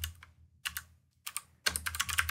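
Bursts of typing on a computer keyboard, close and clear, arriving in short clusters of rapid key clicks separated by pauses, with a longer, denser run of keystrokes at the end.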